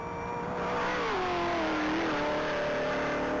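A black 2021 Chevrolet Camaro Z01 race car accelerates on a top-speed track, its engine note rising steadily and loud for several seconds with no talk over it.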